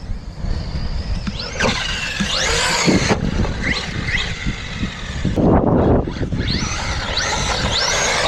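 A RedCat Valkyrie 4S RC car drives across tall wet grass, its electric motor whining up and down in pitch in steady bursts with a continuous rushing and rustling underneath, loud and close.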